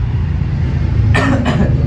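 A man coughs twice in quick bursts over a steady low background hum, the coughs loud and close.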